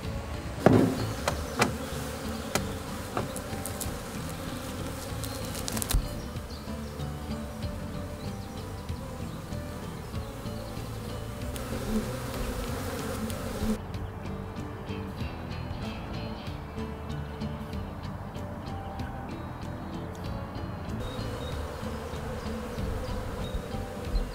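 A honeybee colony buzzes around its hive in a dense, continuous drone that stays close and even throughout, with occasional faint clicks and bumps.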